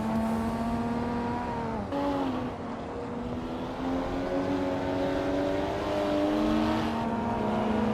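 Race cars in a racing video game, including a Nissan Skyline R31 GTSR, drone continuously with steady engine tones that rise and shift pitch as they accelerate.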